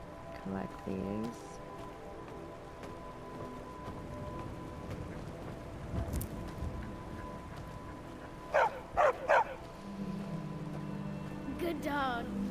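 In the video game Skyrim Anniversary Edition, a dog gives a few sharp barks in a quick burst, with a single bark shortly after, over a faint rain-like background hiss.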